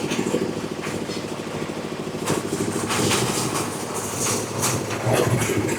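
Mini concrete lift machine running in the rain during a test, with a steady, loud mechanical engine drone and rhythmic clattering, plus rain hiss and a few sharp knocks over about six seconds.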